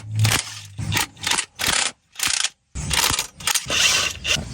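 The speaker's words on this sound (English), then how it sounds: "So we're gonna pop all of the bolts that go from the cylinder head to the header." Header bolts come off a Porsche 986 Boxster, a series of sharp metallic ratcheting bursts and clicks separated by short pauses, close and loud.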